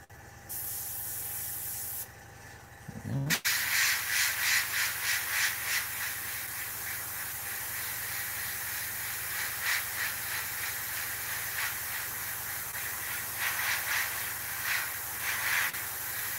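Airbrush spraying paint with hissing bursts of air, an older paint building up at the tip; a short hiss starts, pauses, then a long continuous fluctuating spray with pulsing surges runs to the end, close and fairly loud.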